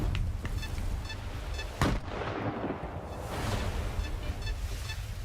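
A frag grenade explodes in the Stalker 2 video game, a loud burst set against ongoing rumbling battle noise with distant gunfire-like cracks around it.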